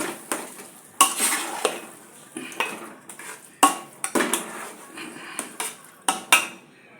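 A spoon scrapes and clanks steadily against a pan while ghee is stirred into bread halwa, with soft frying sizzle underneath and repeated sharp metal knocks, close up with no speech.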